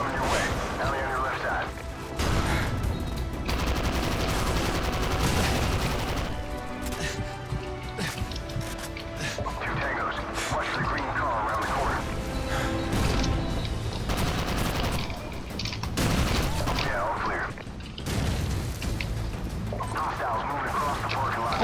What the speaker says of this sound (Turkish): We are taking heavy fire from a fortified position on the fifth floor.